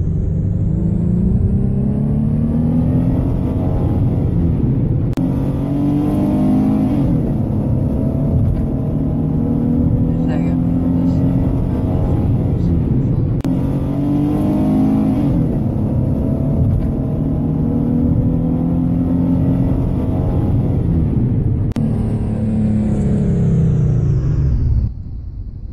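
Loud car engine revving and droning while driving in the Roblox game Twisted, with steady rumbling tone and rising and falling pitch as gears shift, heard alone without voices.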